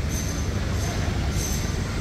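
An underground metro train runs in Singapore, giving a steady, close rumble with a faint high-pitched squeal from the wheels throughout.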